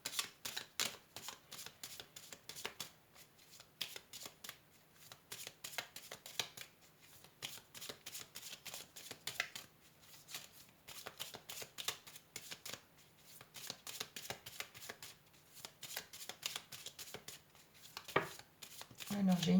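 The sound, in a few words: shuffling Petit Lenormand oracle cards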